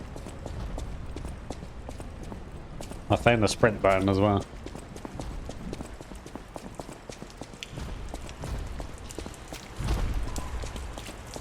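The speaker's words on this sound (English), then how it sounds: "Yeah, I could hear the big heavy ass footsteps." Big heavy footsteps in the game Lies of P, a run of dull, evenly spaced thuds like a large creature plodding nearby, continuing under a brief spoken remark and persisting faintly afterward.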